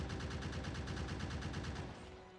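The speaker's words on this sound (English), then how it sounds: "Let's finish it off with the turrets." Turrets in the Factorio Krastorio 2 game fire a rapid, steady volley of loud repeated shots that stops abruptly near the end.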